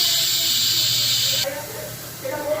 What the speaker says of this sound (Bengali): এবারে আমি গ্যাসটা প্রেশারটা রিলিজ করে দিচ্ছি